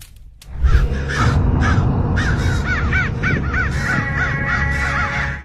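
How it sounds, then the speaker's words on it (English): A large flock of crows caws loudly and continuously in Sunnyvale, California, with many overlapping harsh calls sounding at once, close and dense throughout with no voices. "Crows going haywire."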